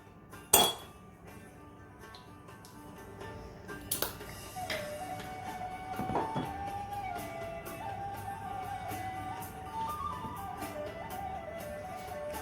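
A spoon clinks against a jar while scooping: a couple of bright taps, then softer scraping and ringing clinks over quiet background.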